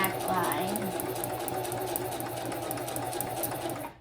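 A sewing machine stitches through a sheet of paper, running as a steady, close mechanical whir and rattle that holds evenly throughout, then cuts off abruptly at the end.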